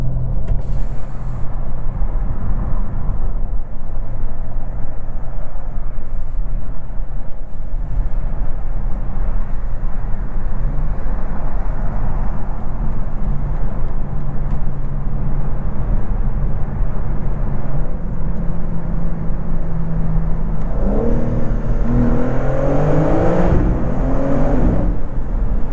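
A 2024 BMW M4 xDrive Competition drives through a tunnel, its engine droning loud and steady before the revs climb in rising pulls near the end, heard from inside the car with no talking.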